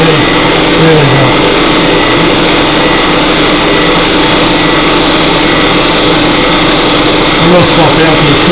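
Grinding machines run continuously at full volume, a dense, steady mechanical whine and roar that never drops off across the whole stretch.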